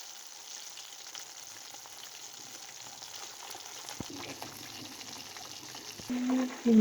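KFC-style chicken pieces deep-frying in oil, giving a low, even bubbling hiss that runs steadily throughout, a brief knock near the middle and a louder clatter of movement at the end, faint and close.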